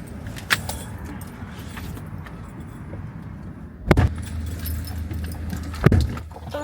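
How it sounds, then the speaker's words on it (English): Car keys jangle in a few short, bright bursts near the start, middle and end, close by over a steady low rumble from the car. "Oh, and get the keys out of the car."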